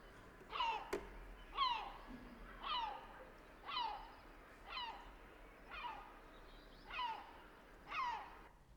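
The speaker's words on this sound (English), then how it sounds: "the herring gull with a rhythmic horn call" A herring gull gives its rhythmic horn call, eight evenly spaced nasal calls about a second apart, moderately near against a faint hiss.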